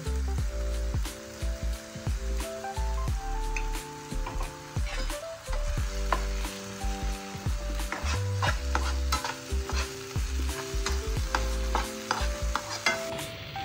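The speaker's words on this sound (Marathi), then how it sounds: "फक्त आपण थोडंसं परतून घेऊया त्यामुळं टोमॅटो आणि कांद्याच्या ग्रेव्हीमध्ये" A spatula scrapes and clatters repeatedly against a pan while tomato and onion gravy for Malvani kingfish curry sizzles underneath, busy irregular stirring throughout with no voices.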